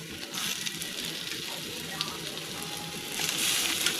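Chopped tomatoes added to prawns frying with salt and minced garlic in a pan for Bengali chingri bhuna, giving a steady hissing sizzle that swells toward the end.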